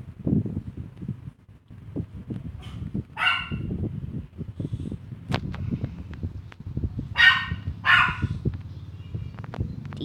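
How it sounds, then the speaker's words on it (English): A dog barks several times in short bursts, moderately close, amid a low background rumble; the barks come singly and in a quick pair toward the end. "He wants to keep barking."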